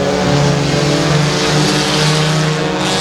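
Race cars roar around the Timberline Speedway track, a loud, close engine drone with steady revving pitch sustained throughout, no talk over it.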